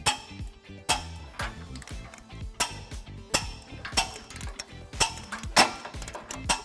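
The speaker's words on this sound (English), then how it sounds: "We're going to go ahead and tighten and torque all of our bolts according to the manufacturer specifications." A 19mm socket on an extension ratchets trailer hitch bolts tight on a 1993 Ford Crown Vic, giving repeated sharp clicking bursts in an uneven rhythm, close and fairly loud, with no talking.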